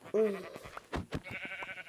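A sheep bleats loudly once near the start in Minecraft, followed by clicks, thumps and a steady synthetic hum of game audio.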